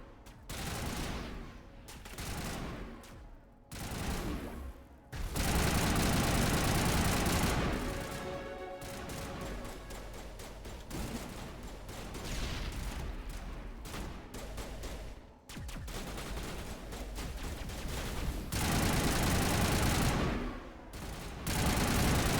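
Sustained gunfire from the video game Mass Effect, dense loud bursts of shots and blasts that run almost continuously with only brief gaps.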